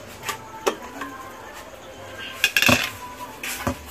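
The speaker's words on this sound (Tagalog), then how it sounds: "Ilagay ang karne sa kaserola." Pork meat going into a cooking pot for binagoongang baboy, with a few sharp metallic clinks and knocks of utensil against the pot, close and moderately loud, over quiet kitchen background.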